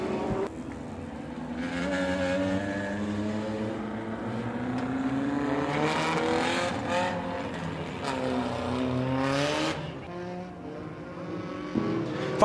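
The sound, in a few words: race cars on the final lap at Winston Speedway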